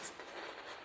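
Chalk or marker scratching across a classroom board during a Class 10 trigonometry lesson on heights and distances, a short, soft, continuous scrape close by with no voice over it.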